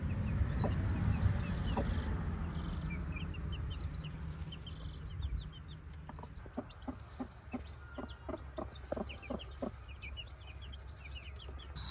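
A broody hen clucks softly with chicks tucked beneath her, low murmuring clucks at first, then a run of short, rhythmic clucks close by, with faint peeps and no talking.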